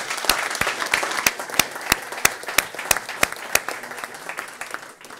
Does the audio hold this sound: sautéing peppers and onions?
no